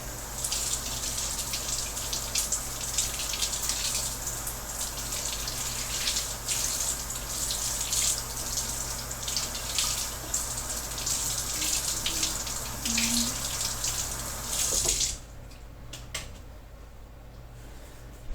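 Water runs steadily from a cold tap for about fifteen seconds, a close, constant splashing stream that then cuts off, leaving a quiet room hum.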